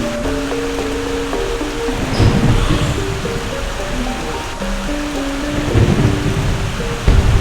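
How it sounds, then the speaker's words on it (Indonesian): Heavy rain with rumbling thunder during a night in a zombie survival video game, a steady loud downpour with deep thunder rolls over faint background music, no talk. "Hujan teman-teman."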